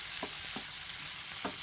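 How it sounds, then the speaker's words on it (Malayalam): Chopped tomatoes fry in a pan with a steady, soft sizzle, broken by a few short scraping stirs spaced out across the moment. "ഇനി ഈ ചോപ്പ് ചെയ്ത് വെച്ചിട്ടുള്ള തക്കാളി നമുക്ക് പാനിലോട്ട് ചേർക്കാം. നന്നായിട്ടൊന്ന് ഇളക്കി കൊടുക്കാം"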